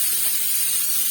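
Radish and onion sautéing in oil give a short, steady hiss that sounds close up and even throughout.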